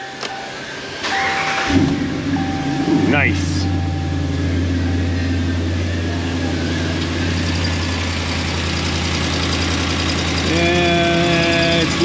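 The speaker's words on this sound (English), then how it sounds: "let's go starting the engine" A Ram 1500 pickup's 5.7-litre engine, fitted with BBK shorty headers and leaking, cranks and catches, then settles into a steady low idle that runs on, with a brief spoken word early on.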